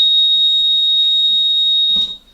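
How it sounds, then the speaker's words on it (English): A hyperbaric chamber's power-loss alarm sounds a loud, piercing electronic tone continuously and then cuts off, followed by quiet. "Now the alarm tells us if we lose power"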